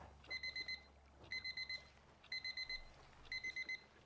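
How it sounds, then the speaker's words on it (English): An alarm clock sounds in the PC video game The Shattering, repeating four times as quick bursts of high electronic beeps, each burst about half a second long and spaced roughly a second apart, fairly faint over a low ambient hum. "So there's an alarm going."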